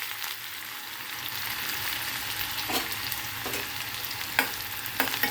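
Onion frying in a pan with mustard and cumin seeds, a close steady sizzle broken by several sharp spatters and stirring knocks toward the end, with no voices.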